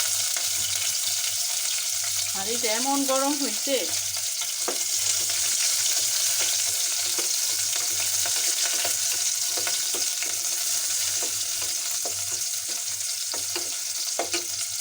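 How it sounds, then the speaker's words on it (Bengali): Chopped onion, garlic and green chillies sizzle loudly in hot oil in a very hot pot, a steady crackling fry throughout with a stir near the start, while a person talks briefly. "এখন এইখানে আমি হচ্ছে পেঁয়াজ কুচি, রসুন আর হচ্ছে কাঁচামরিচ দিয়ে দিলাম।"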